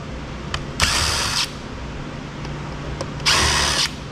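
A power drill removes screws while an iRobot Roomba is scrapped for e-waste, giving two loud whirring bursts of about half a second each, separated by quieter clicks and handling noise.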